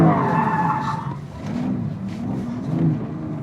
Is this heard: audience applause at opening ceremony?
no